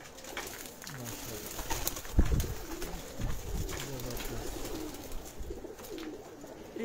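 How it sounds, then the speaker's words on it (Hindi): Pigeons cooing on a rooftop pigeon loft, a steady layer of soft coos and bird calls with one louder thump partway through, continuing throughout at moderate level. "एक से बढ़कर एक कबूतर है"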